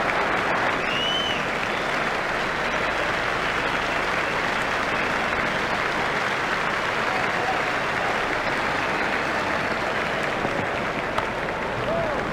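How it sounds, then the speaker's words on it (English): A stadium crowd applauds in the EA Cricket 2002 video game during an India vs South Africa World Cup semi-final, with loud, dense, continuous clapping that holds steady from start to finish. "He deserves the applause from the crowd."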